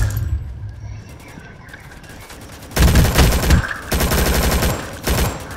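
Bursts of video-game gunfire from Rolling Thunder, starting after about three seconds of quieter background, then several loud rapid volleys separated by short pauses.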